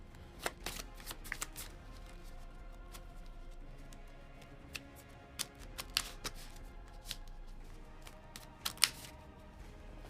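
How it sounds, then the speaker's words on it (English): Playing cards for the Sleeping Gods board game being shuffled at close range, with a run of crisp riffles and snaps over a quiet room and no talk. "And then finally, shuffle these ones."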